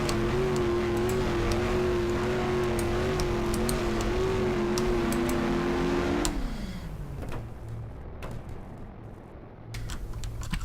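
A simulated vehicle engine in Garry's Mod ACF holds a steady buzzing drone at speed, then the revs fall away abruptly as it leaves a ramp, fading to quieter rumble and scattered ticks and knocks.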